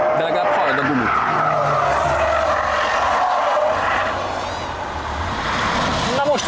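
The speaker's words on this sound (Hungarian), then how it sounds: "De legalább hallod a gumit." Tires of a Tesla Model 3 Performance squeal and skid loudly and continuously on a racetrack, a sustained screech with engine and wind noise underneath and people talking over it.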